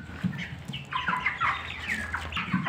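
Broiler chickens about a month old in a farm coop in the Egyptian countryside, giving a busy, fairly loud mix of overlapping clucks and squawks from several birds.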